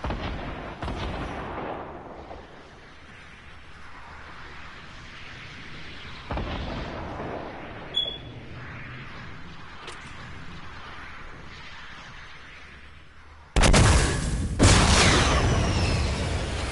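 Gunfire in a PS4 video game: scattered heavy shots and booms echo at varying distances, with sharp isolated cracks and a loud burst of rapid firing near the end, over a rumbling background and no talk.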